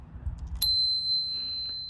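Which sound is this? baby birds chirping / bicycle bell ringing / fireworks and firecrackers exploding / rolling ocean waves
bicycle bell ringing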